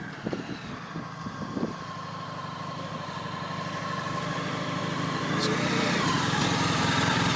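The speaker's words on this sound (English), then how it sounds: "This bike's coming in here." A motorcycle rides in toward a barrier at a training centre, its light engine growing steadily louder as it approaches, with faint talk near the start.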